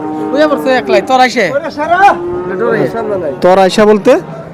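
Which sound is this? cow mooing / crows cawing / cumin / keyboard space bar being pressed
cow mooing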